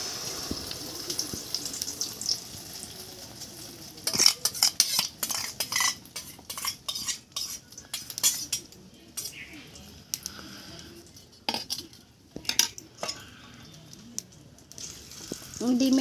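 Egg mixture for an omelette is beaten in a bowl, with bursts of rapid close metallic whisking and clinks, pauses, faint running water and a voice talking under and between the strokes.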